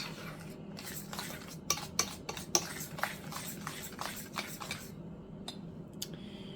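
Salt and baking soda stirred together in a bowl with a fork, quiet rapid scraping and clinking in short bursts, close but faint, with no talking.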